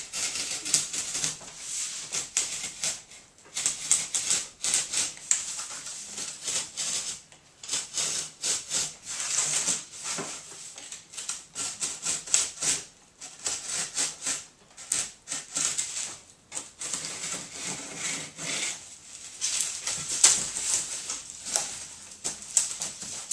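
A blade cuts out a cardboard piece for a handmade round table in a rapid series of close, dry scraping and scratching strokes with short pauses.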